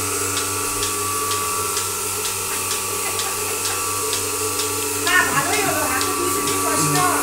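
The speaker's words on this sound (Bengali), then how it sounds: "এটি হলো তুরস্কের দুধ দহানো মেশিন।" A Turkish Melasty milking machine runs with a steady mechanical hum and regular rhythmic pulsing clicks, joined by busier clattering toward the end.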